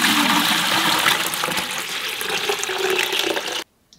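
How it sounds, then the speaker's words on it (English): Water poured into a homemade Berkey-style gravity water filter, a loud continuous splashing rush lasting about three and a half seconds before cutting off abruptly to near silence. "Dump water in."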